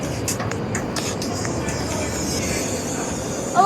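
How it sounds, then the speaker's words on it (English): A London Underground Northern line train arriving on the platform, a continuous rumbling roar with clattering bursts and a brief wheel squeal at the end. "The next train's coming,"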